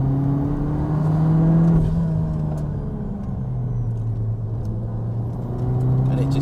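A Peugeot 308 R Hybrid hot hatch with a six-speed automatic gearbox accelerates hard, its steady engine drone rising and holding close and loud from start to finish.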